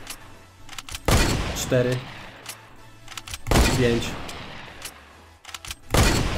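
Rapid-fire golden sniper rifle in a video game blasting a metal wall, three sharp loud shots spaced about two seconds apart, with a voice counting between them.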